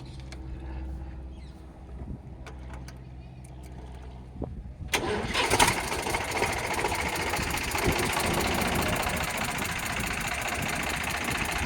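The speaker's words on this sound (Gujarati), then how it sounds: "તમે જોઈ શકો છો એન્જિન સ્ટાર્ટ કરી દીધું છે આપણે" A used tractor with factory-fitted gear and hydraulics cranks with a few clicks and knocks, then its diesel engine catches and settles into a steady, loud, close rumbling idle.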